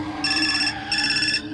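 A telephone rings in two electronic bursts separated by a short gap, loud and steady over a low background hum, in a Hindi horror story.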